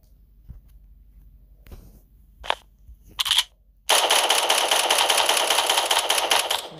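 Rapid automatic gunfire in the video game 1v1.lol, a few scattered shots at first, then a loud, sustained burst of continuous firing that fills the final three seconds.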